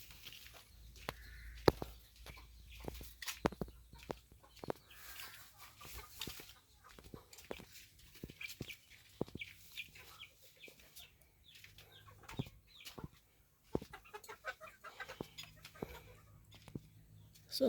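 Chickens and small chicks on a farm give scattered soft clucks and peeps among footsteps and outdoor rustling, fairly faint and intermittent, with a person speaking occasionally.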